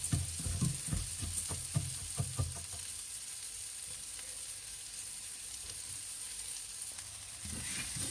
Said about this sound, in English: I'm going to add in my rice, my brown rice. And just leave that simmering for a minute or two and let the rice soak up the butter